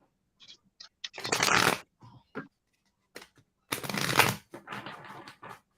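Tarot cards shuffled in a few separate bursts of riffling, each lasting about a second, with brief quiet gaps and small handling taps between them, close and clear with no talking.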